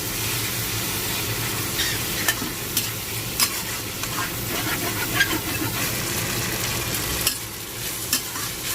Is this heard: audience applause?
no